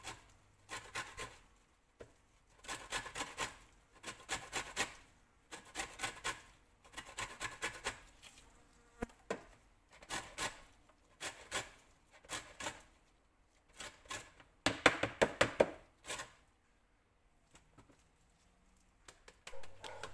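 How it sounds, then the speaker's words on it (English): Orange peel is shredded by hand in short rhythmic bursts of close, dry rasping scrapes, repeated steadily with brief pauses between strokes. "when you shred it, you're only taking off a thin layer of the peel"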